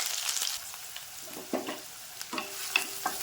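Cut onions frying in spiced oil with cloves and cardamom for a sprouted horse gram biryani, a soft, close sizzle punctuated by several distinct spatula scrapes and stirs.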